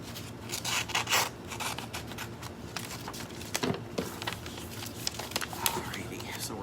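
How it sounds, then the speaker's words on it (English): Paper is cut for Christmas decorations, giving close, rasping cutting strokes that come in uneven bursts while a person talks quietly over them. "I am not worrying about how straight I'm cutting"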